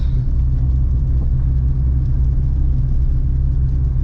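A Renault Clio 2 RS engine idles steadily and close by, a deep, even rumble that holds for about four seconds with no voices over it.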